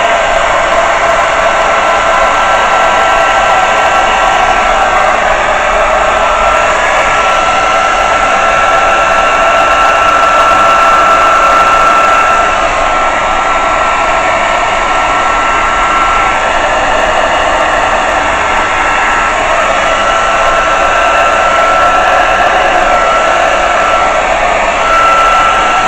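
Close, loud and unbroken whoosh of a hair dryer blowing across wet acrylic paint on a large canvas, holding steady for the whole stretch with no voices.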